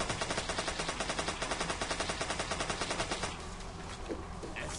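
Rapid SMG fire in the zombie video game Zombocalypse 2 rattles in a fast, even burst for about three seconds, then stops, leaving quieter game noise.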